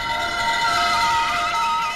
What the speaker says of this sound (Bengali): সরে যান সবাই, দমকলের গাড়ি এসে গেছে।